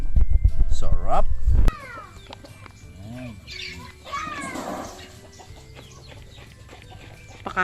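Chickens are being fed on a rural provincial farm in the Philippines, giving scattered clucks and squawks at close range. A loud, busy stretch of noise comes first, then quieter calls follow, with some people talking in the background.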